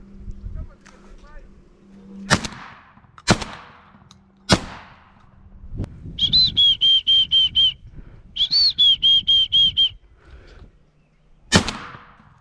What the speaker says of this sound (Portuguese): É o tiro.